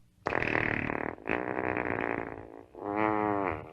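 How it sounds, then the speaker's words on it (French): A long, loud, exaggerated fart sound effect closes a low-budget horror comedy film, stretching over several seconds in three drawn-out blasts with a buzzy, wavering tone. "Le film se termine sur un pet, parce que c'est le genre de film que c'est."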